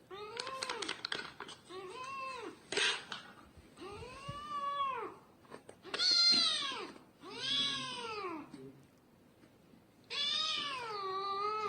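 A hungry kitten meows loudly and repeatedly, drawn-out wailing cries close to the listener, separated by brief pauses.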